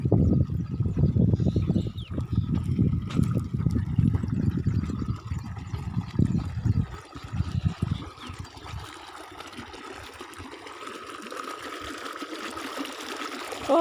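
A motor pump runs in a field, its water trickling and splashing steadily for several seconds before the flow thins to a quieter, softer dribble.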